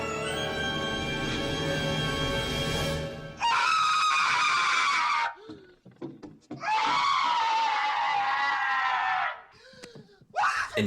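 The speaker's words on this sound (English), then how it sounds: "that movie also has like the best scream in history" A famous movie scream is played back from a film, a long, loud, piercing wail that holds for several seconds before breaking into further drawn-out screaming bursts with short pauses between them.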